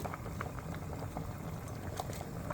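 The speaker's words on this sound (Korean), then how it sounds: "고기가 뚜껑 닫고 또 팔팔 끓여요" Beef bone broth with meat comes to a rolling boil in a pot for rice cake soup, a steady close bubbling and popping that never lets up, with no talk over it.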